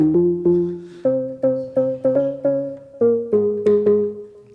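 A synthesizer plays a short melodic phrase of about a dozen plucky notes in a higher register, each decaying quickly, clear and alone.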